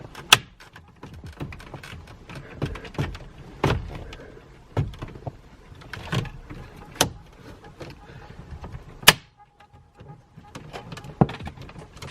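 Plastic cupholder retaining tabs popping out in a 2003+ Saab 9-3 interior: scattered sharp clicks and snaps amid quieter fumbling and scraping, several distinct pops spread irregularly across the clip.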